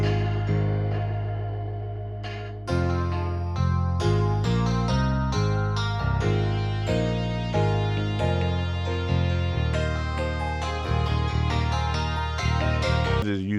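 Vintage-sampled bass sits under a psychedelic guitar loop in a beat, with plucked, effect-heavy guitar notes washed in chorus and distortion over a low bass line that enters a few seconds in, with no talking.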